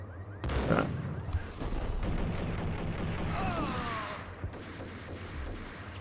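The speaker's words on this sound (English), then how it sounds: "I probably should use this grenade launcher, because they are in fact giving me ammo for it." A grenade launcher fired in the Max Payne video game: a sudden blast followed by a long rumbling roar of gunfire and explosion noise that gradually tails off, loud and close.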